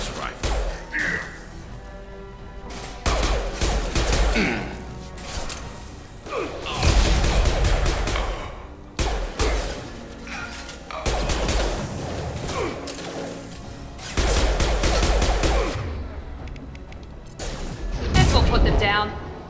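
Rifle gunfire in Mass Effect 2, loud repeated bursts and heavy impacts in clusters over about twenty seconds, with game combat noise and dialogue between volleys.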